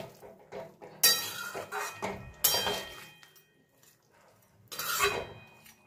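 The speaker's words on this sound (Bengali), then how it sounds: "মাছটাকে দিয়ে ঝোলের সঙ্গে মিশিয়ে দিচ্ছি।" Fried koi fish being stirred into curry in a pot, with a few sharp metallic clinks and scrapes of a utensil against the pan in separate bursts amid quiet gaps.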